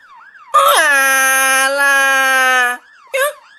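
A loud, close ambulance siren sounds one long sustained tone after a brief lead-in, then cuts off, followed by a short second blip.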